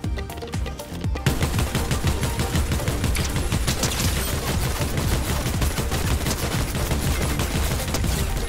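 Sustained, loud automatic machine gun fire in the Fortnite video game, a dense, rapid stream of shots running almost unbroken for several seconds after a brief quieter start.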